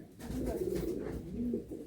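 Soft, low cooing from Andhra pigeons close by, a couple of throaty rolling calls in quick succession over a quiet background.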